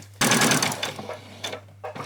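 Sewing machine stitching a quarter-inch French seam down an apron, a steady close whir running for most of two seconds before easing off, followed by a couple of short bursts.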